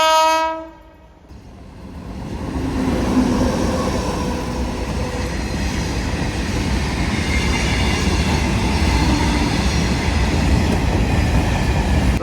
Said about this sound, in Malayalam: ഒരു BTPN ഗുഡ്സ് ട്രെയിൻ ആണ് ഈ പോകുന്നത് രത്നഗിരി ഭാഗത്തേക്ക്